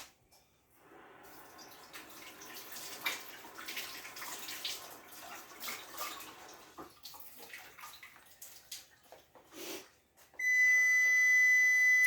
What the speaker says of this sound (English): Now let me wash my hands real quickly.